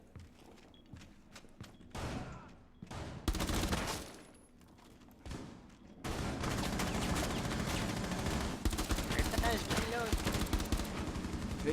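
Automatic gunfire rattles in a round of the Rainbow Six video game, sporadic bursts at first then a dense sustained barrage of rapid shots, loud and close, with faint voices underneath.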